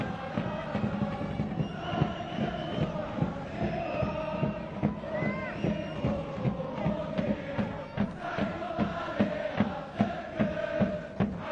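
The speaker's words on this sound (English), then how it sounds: "Crowd, they are really on fire at the moment." A large football stadium crowd at an AFC Champions League match between Kashiwa and Suwon roars and chants steadily, with rhythmic drumming and clapping pulsing through a dense, continuous wall of cheering.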